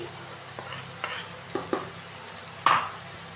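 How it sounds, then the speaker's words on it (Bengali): Fried potatoes are stirred into a spice mixture frying in a pan for a fish-head muri ghonto. Scattered spoon scrapes and clacks, one louder than the rest, sound over a soft, low sizzle. "এখন আমরা আমাদের আলু ভাজাটা দিয়ে দিচ্ছি"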